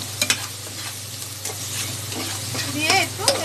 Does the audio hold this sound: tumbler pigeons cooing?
no